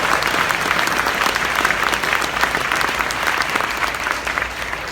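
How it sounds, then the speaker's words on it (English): A church congregation claps in steady, dense applause at a basketball court dedication, loud and continuous for the whole stretch with a faint crowd murmur underneath. "you need to give God a hand clap of praise"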